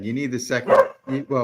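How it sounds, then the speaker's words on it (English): A pet dog barks a few times nearby in short, sharp bursts, mixed in with someone talking indoors. "sorry, that's my dog"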